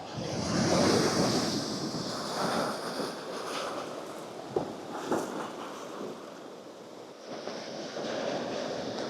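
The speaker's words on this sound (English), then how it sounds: "We just wait for the waves to come in." Ocean waves rolling in at a rocky shore near Blackchurch Rock, a broad surging wash that swells and recedes, with gusty wind buffeting the microphone.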